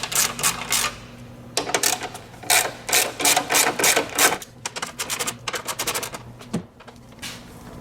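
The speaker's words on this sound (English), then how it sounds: "take our 10mm socket and we're going to go ahead and remove the bolts out of the top" A ratchet with a 10mm socket works the grille bolts loose on a truck during a Westin HDX LED grille insert install, giving loud, close bursts of rapid clicking separated by short pauses.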